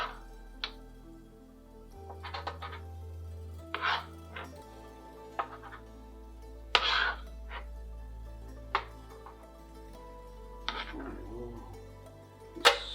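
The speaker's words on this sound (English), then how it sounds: "Just spoon out and just put them into this little roasting pan." Porcupine meatballs are spooned into a small roasting pan, making a series of soft thuds and light metallic clicks at irregular intervals, close and fairly quiet, with a low background hum.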